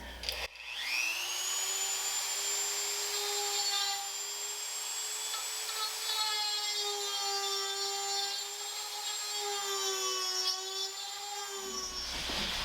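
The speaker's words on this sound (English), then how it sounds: "Dremel out instead of my drill. Let's see if I could make it cut through with this thing." A Dremel rotary tool whines steadily for over ten seconds, its pitch holding constant as it grinds through wood, then spins down.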